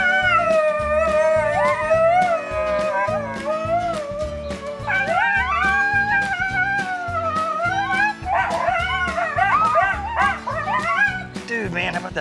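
A cartoon coyote yips and howls in a series of rising, wavering cries over steady background music, close and fairly loud, with no speech.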